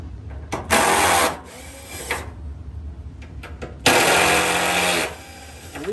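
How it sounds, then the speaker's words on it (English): A cordless power drill set to low torque drives screws into the back panel of a Miele T9820 gas dryer under repair, two sustained whirring bursts with short clicks and taps between them, close and fairly loud. "reason why this is making that noise is I have the torque set very low on this, so I don't strip anything"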